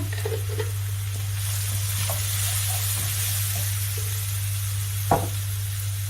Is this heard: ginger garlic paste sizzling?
yes